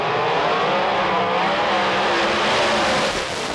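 Nitrous drag race cars at Houston Raceway Park, a loud, dense engine roar sustained across the whole stretch as the cars tear down the strip, no voices.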